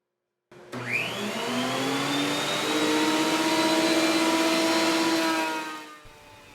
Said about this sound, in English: I have a great big, huge dust extraction system built into the ceiling of my shop